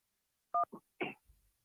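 Telephone dialing tones sound as a call-in line connects on a sports talk radio show: a short sharp dual-tone beep, then two brief tones, ending in a faint low rumble.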